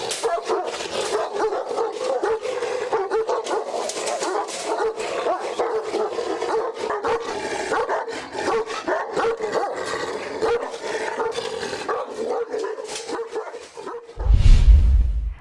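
A Pshdar breed dog barks steadily and repeatedly throughout, the yaps and bow-wows closely spaced and fairly near, ending with a louder, heavier burst right at the close; no one speaks.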